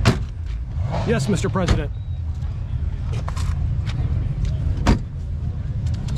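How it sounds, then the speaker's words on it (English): Heavy doors of a 1971 Mercedes-Benz 600 Pullman Landaulet six-door limousine thud shut, one at the start and another near the end, amid outdoor car-show ambience, with a voice speaking briefly in between. "Let me shut these doors real quick"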